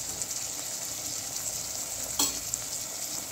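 Millet pulao with turmeric, chili and coriander powder sizzles softly in a pan as it is stirred, with a brief scrape partway through and no voices.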